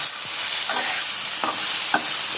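Panch phoron and turmeric fry in a pan with a continuous hiss, broken by a few brief scrapes and clinks as the spices are stirred; no talking.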